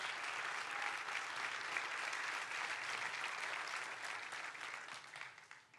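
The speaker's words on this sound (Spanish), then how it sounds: "Denle un fuerte aplauso a Dios" Steady applause from a church congregation, a broad wash of many hands clapping at moderate volume that fades slightly toward the end, with no talk over it.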